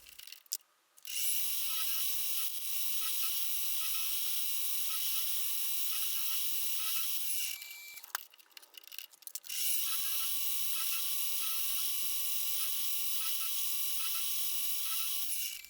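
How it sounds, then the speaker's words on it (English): A milling machine cutting flats onto go-kart track rods, giving a steady, high-pitched metallic whine that runs for several seconds, breaks off briefly with rattling, then resumes just as strongly. "get it in the mill so I can cut some flats so I can adjust it with the spanner"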